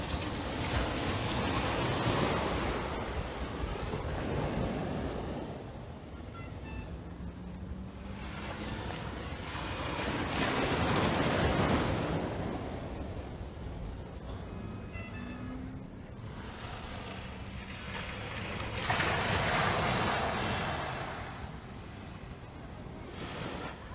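Ocean waves at Carlisle Bay, Barbados, heard as a steady broadband wash of surf with wind buffeting the microphone, swelling in slow surges every several seconds.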